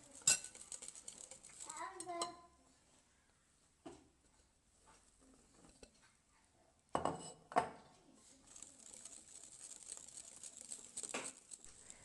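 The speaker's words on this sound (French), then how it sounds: "il faut bien mélanger pour éviter qu'il y en ait des grumeaux" Pancake batter is stirred in a bowl with a utensil, making soft, faint scraping and tapping with a few sharper clinks, quiet and intermittent against low background noise.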